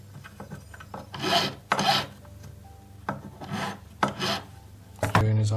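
A metal claw on a crossover basket solitaire ring is rocked and burnished over the stone, making several close, rasping scrapes and rubs in short uneven bursts.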